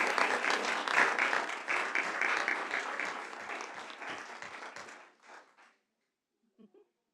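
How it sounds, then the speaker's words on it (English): Audience applause at a school board of trustees meeting rolls on loudly and steadily for about five seconds, then thins to a few last claps before falling silent. "Let's give them another round of applause."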